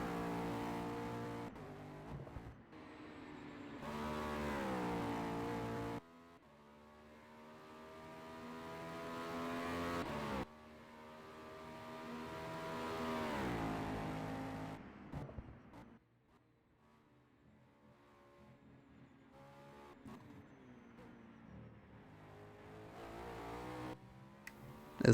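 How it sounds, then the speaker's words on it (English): Audi GT race car at the Le Mans 24 hours in a racing video game, its engine heard from a distance, droning and rising and falling through the gears in long sweeps with brief drops between passes, no talk. "I do like the sound of the Audi from a distance."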